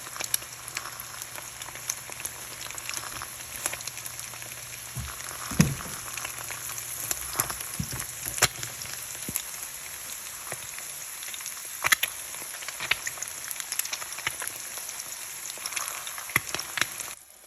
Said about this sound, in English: time to fry the eggs